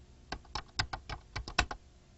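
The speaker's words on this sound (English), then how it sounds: "let's name this file Sample by typing that in" Someone types a short file name on a computer keyboard, about nine crisp, close keystrokes in an uneven quick rhythm, then silence, with no talking.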